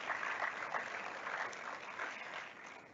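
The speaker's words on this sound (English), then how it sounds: "So I think we just give ourselves a round of applause because that's a big deal." Audience applause at a university town hall with the chancellor, a short burst of clapping from a seated crowd that stays fairly even and begins fading toward the end.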